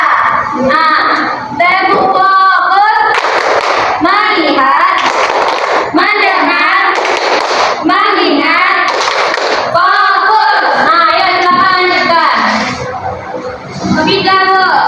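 A class of children performs the tepuk fokus clapping routine, with rhythmic group claps mixed with loud children's voices and chanting throughout, close and busy.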